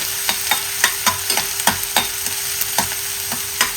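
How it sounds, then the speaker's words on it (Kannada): Chopped onion and green chillies fry in a pan with a constant close sizzle, while a spoon stirs and scrapes at a steady rhythm, each stroke a sharp click over the hiss. "ಒಂದು ದೊಡ್ಡ ಈರುಳ್ಳಿಯನ್ನು ಕಟ್ ಮಾಡಿ ಹಾಕ್ತಾ ಇದ್ದೀನಿ. ಇವಿಷ್ಟನ್ನು ಚೆನ್ನಾಗಿ ಫ್ರೈ ಮಾಡ್ಕೊಳ್ಬೇಕು."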